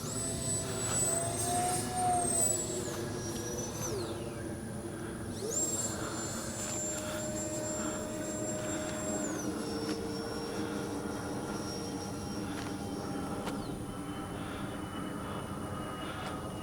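A Skynetic Neptune Turbo RC jet plane flies overhead with a steady whining turbine-fan roar, pitch sliding up and down as it passes, loud and continuous outdoors.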